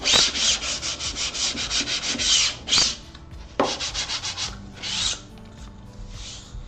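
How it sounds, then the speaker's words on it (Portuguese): Hand sanding of wood with sandpaper: steady rhythmic back-and-forth rubbing strokes, close and bright, in several quick bursts separated by short pauses. "Lixando também."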